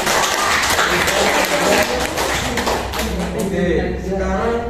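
A school class clapping hands together during a pair-taught lesson, a loud, close, busy burst of clapping mixed with children's voices and thumps, fading slightly near the end.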